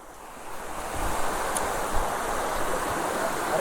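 Rushing water from a waterfall in the Kantara forest, a steady broadband roar that swells slightly after the first second and holds constant, with no talking.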